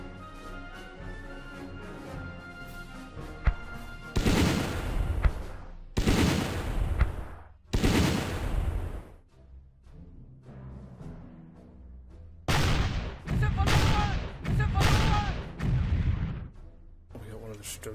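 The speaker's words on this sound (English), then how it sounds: "Gonna take another chance and dump the artillery, I think, right there." Artillery barrage in the WWII strategy video game Battle Academy: several heavy rumbling bursts of shellfire land in waves, loud booms separated by short lulls, with game music or ambience underneath.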